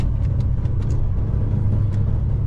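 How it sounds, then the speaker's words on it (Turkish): A bus approaches on a narrow road in Germany, its engine a steady low rumble with faint brake hisses and squeaks above it, heard from inside a vehicle with no talk. "Otobüs durağı var bak otobüs geliyor."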